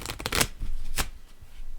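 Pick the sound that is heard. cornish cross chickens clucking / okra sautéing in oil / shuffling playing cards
shuffling playing cards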